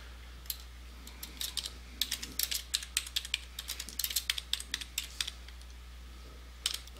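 Keys clack on a brand new computer keyboard in irregular bursts of quick taps with brief pauses, close and quiet over a low steady hum, no voices.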